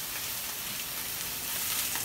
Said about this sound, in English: getting that nice sear on one side of it, frying in canola oil.